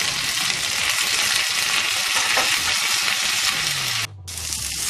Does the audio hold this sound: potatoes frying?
yes